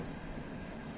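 Inside the VRChat video game, a train rumbles steadily with a dense, continuous rolling noise at low level, no voices.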